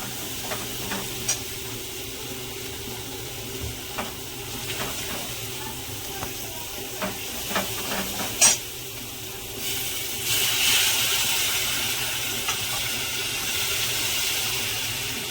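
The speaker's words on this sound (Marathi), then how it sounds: "आता आपण याच्यात पाणी टाकायचं आहे." Water poured into hot oil in a pan while cooking a spicy Maharashtrian curry, giving a steady hiss and sizzle with occasional clinks and stirring, rising into a stronger steaming rush near the end.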